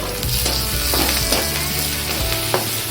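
Cut green chillies hit a hot pan for a Marathi kothimbir (coriander) bhaji and sizzle steadily and loudly throughout, with a few sharper crackles and stirring scrapes, and no one speaking.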